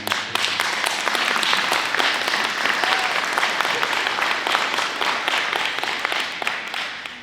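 Graduates at a Siena Heights University graduation ceremony applaud their friends and family with loud, steady clapping from a large crowd that holds for several seconds and then fades slightly.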